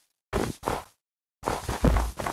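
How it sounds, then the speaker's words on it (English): Footsteps on snow in Minecraft: soft, muffled crunching steps, two near the start then a pause before four more in a row, close and moderately loud with silence between. "It's walking on snow."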